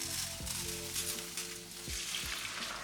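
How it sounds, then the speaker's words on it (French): Onion and tofu frying in olive oil in a pan, a steady close sizzle with a few sharp bursts of stirring scrapes. "dans une poêle je fais revenir mon oignon et mon tofu avec un petit peu d'huile d'olive"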